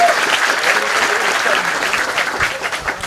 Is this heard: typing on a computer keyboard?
no